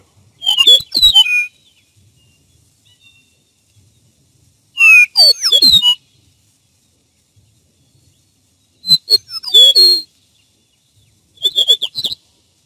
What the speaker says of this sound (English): comes a jouncy little sequence from the throat of the meadowlark